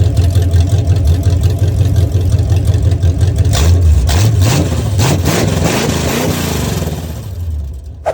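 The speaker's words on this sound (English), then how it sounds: "We needed to see what this thing will sound like with open headers." A Chevy G-body car with open headers and its 2-inch exhaust removed revs hard and loud, a raw, throaty engine roar with rising and falling pulls that taper off near the end, with no voices.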